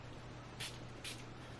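Floral peony perfume sprayed onto skin in two short, hissing spritzes about half a second apart, quiet and close, with no voices.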